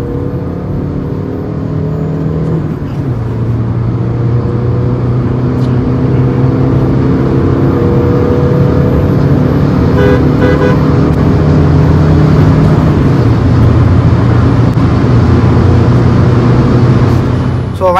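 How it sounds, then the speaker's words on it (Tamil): A modified Stage 2 Volkswagen Polo TDI diesel pulls hard in third gear from around 60, its engine drone rising steadily with the pace, loud and continuous and close up, with no talking. "ஸோ அந்த மாதிரி ஆக்சிலேட் கொடுக்கும்போது வண்டி எப்படி ஏறுதுன்றதை பார்ப்போம்."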